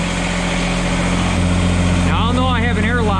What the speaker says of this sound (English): So now I'm just going to let it run, and we'll see if we get any heat.